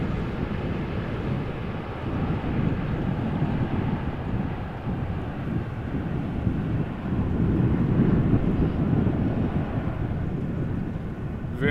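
A KLM airliner landing at Amsterdam Schiphol, heard as a continuous broad roar from a distance, swelling slightly midway and mixed with wind buffeting on the microphone, no voices.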